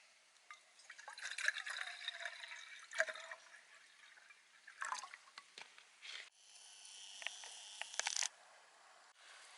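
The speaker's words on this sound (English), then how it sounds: "12 ounces of water" About 12 ounces of water is poured into a small pot at a campsite, with quiet irregular trickles and splashes and a few handling clatters, close but faint.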